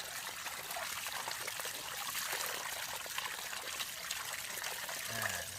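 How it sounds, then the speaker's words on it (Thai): Clean water runs steadily while something is spread out and rinsed by hand, giving a continuous close trickle and splash with no pause. "นี้ก็เป็นน้ำสะอาดเลยครับ แล้วก็นี่ครับเอามือคลี่คลี่นะครับ ให้น้ำค่อย ๆได้เอาเศษ ออกไปนะครับ"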